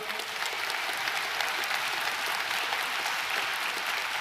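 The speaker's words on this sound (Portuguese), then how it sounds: "você pode aplaudir o Senhor" A church congregation applauds in a steady, dense patter of many hands, sustained evenly throughout with no break.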